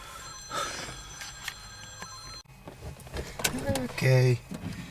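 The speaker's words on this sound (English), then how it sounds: "There goes the phone now." A telephone rings indoors with a loud, repeating electronic trill near the end. It follows clattering, handling noises and a steady background hum.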